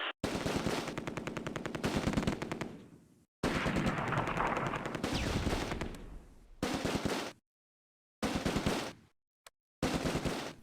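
Heavy machine gun fire in the WWII strategy game Close Combat, Operation Market Garden at Groesbeek: long sustained rapid bursts, loud and close, broken by short pauses and a few brief later volleys.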